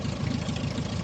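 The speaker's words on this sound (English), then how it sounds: "We'll push for full power, which on this aircraft gives approximately" A light aircraft's 65 horsepower engine at full power for takeoff, a steady loud droning rumble heard close, with wind buffeting.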